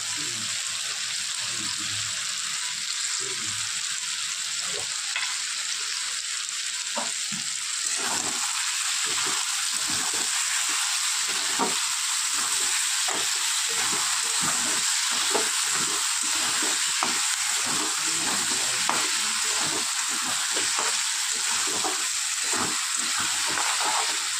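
Ridge gourd and potato sizzle steadily in a hot pan, a continuous bright frying hiss with repeated soft stirring scrapes and clicks running throughout, close and fairly loud.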